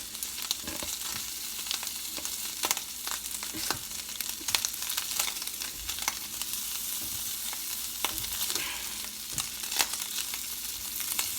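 Scrambled eggs sizzle and crackle steadily in a hot frying pan while being stirred, with frequent sharp pops and scraping stirs throughout, loud and close with no talking.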